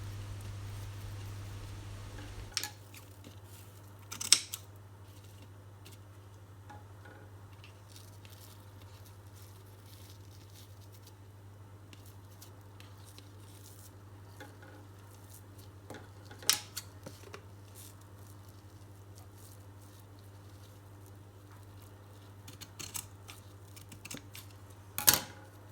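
Scissors snip through ribbon to trim the tail of a handmade bow, a few faint, sparse cuts spread out over a steady low background hum.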